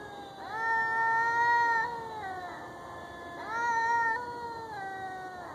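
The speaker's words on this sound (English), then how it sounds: "think we're about to see a cat fight." Two cats caterwaul outdoors before a fight, with two long, rising and falling yowls close by and a steady hum beneath.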